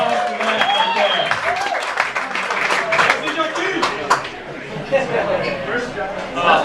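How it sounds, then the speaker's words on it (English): Party guests at a pork-themed party applauding and cheering, lively clapping mixed with overlapping chatter and talk throughout. "Round of applause for that"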